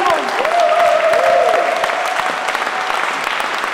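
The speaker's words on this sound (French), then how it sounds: "Alors je vous demande de vous applaudir bien fort" An audience at a SLAM event in May 2009 bursts into loud, dense applause that holds steady, while a whistle-like tone slides and wavers over the clapping.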